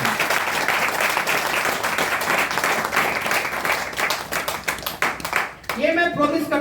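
A seated audience at a marketing business meeting claps steadily together for about five seconds, fairly close and dense, before a voice resumes speaking.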